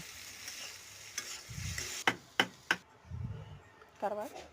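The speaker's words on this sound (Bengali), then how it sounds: "এরপর আলুগুলোকে একটু হলুদ লবণ দিয়ে ভেজে নেব।" Potatoes fry with turmeric and salt in a hot pan, giving a steady soft sizzle broken by a few sharp spatula knocks against the pan.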